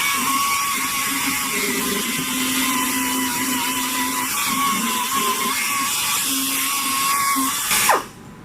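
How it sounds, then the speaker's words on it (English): A high-pitched power grinder whines steadily while grinding down an overrun weld on a 1938 Dodge, running continuously and close before winding down near the end. "That may take a little grinding now, because I screwed up."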